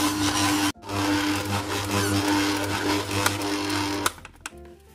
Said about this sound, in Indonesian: Kita mixer adonannya sampai kalis